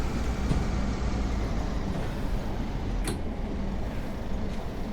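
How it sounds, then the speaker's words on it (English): A Pacer diesel railbus engine hums steadily, a thin, rather high-pitched drone heard from on board, continuous and moderately loud, with no speech. "Remember the engine sound? It is rather high pitched,"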